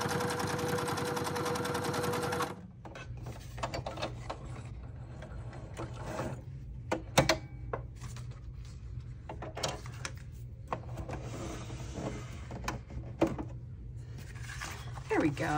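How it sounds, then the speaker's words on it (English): A sewing machine stitching through an envelope for a junk journal, a fast steady mechanical whir and clatter running for most of the stretch, with brief talk at the very start. "So I'm going to pull my sewing machine over here and sew this"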